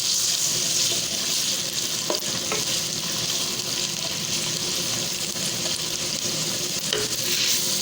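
Carrots and cabbage sauté in an oily pot with ginger garlic paste for Chinese fried rice, giving a steady, close hiss with a few light clinks of stirring throughout.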